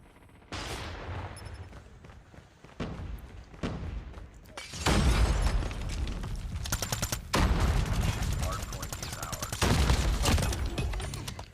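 Rapid bursts of automatic gunfire in the mobile shooter game Call of Duty Mobile, several dense volleys separated by short pauses, loud and continuous during the later half, with no talk.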